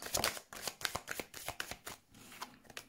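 A deck of tarot cards is shuffled for a reading, quick papery riffles and slaps in a few bursts, soft and close, with no talking.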